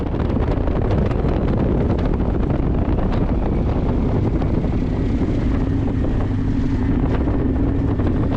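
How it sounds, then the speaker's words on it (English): Strong wind roars continuously and buffets the microphone at a high-altitude mountain lake, loud and unbroken throughout, with no voices. "It's pretty windy up here"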